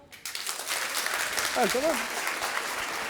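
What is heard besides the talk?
audience applause in answer to a question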